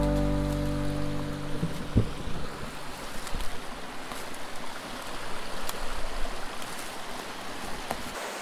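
A small mountain creek in the backcountry rushes steadily in a continuous broadband wash, close by and unbroken for the whole stretch, with no voices over it.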